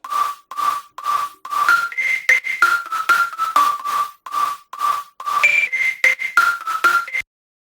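A bright, pure-toned synth lead plays a quick repeating melody of short staccato notes, clear and upfront with no voices.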